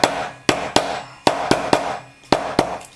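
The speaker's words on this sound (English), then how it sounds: "you need to take a ball peen hammer like that with a round end on it" A round-ended ball peen hammer taps metal eyelets flat on a leather knife sheath, about eight sharp, close, evenly spaced strikes, each followed by a short ringing decay.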